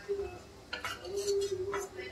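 A metal utensil clinks against a kadhai as roasted cashews are scooped out while making Marathi-style sev upma: a few brief, light clinks spaced about half a second apart over a low steady kitchen hum.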